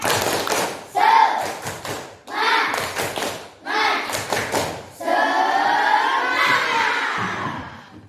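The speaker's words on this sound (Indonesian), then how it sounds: "Ayo tepuk semangat dulu." Elementary school children in a classroom perform a rhythmic spirit clap, bursts of patterned claps and thumps alternating with their group shouting, ending in a longer stretch of chanting voices.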